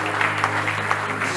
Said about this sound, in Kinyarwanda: tubashimire n'amashyi menshi